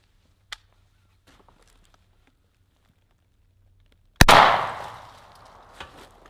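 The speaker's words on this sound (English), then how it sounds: "let's see what happens when we put it up against one of those pillows and fire through that" A gunshot fired through a pillow: after a faint tap and near silence, one sharp, loud muffled bang bursts out and rings away over about a second.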